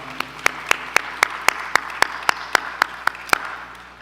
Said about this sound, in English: a round of applause for preparing this significant opportunity for us today